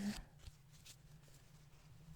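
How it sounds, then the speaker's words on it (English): Tarot and oracle cards being shuffled close up in a quiet room: soft, brief papery riffles and flicks over a faint low hum. "a quick shuffle to the Ching cards as well"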